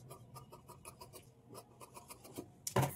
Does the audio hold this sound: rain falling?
no